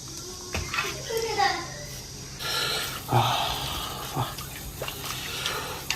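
A boiled beef tongue is rinsed under running water, giving a splashing, gushing flow close by, with people talking over it.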